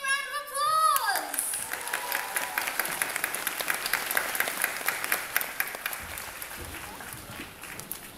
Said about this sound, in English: Let's give the Hong Kong Disney Art performers a big round of applause!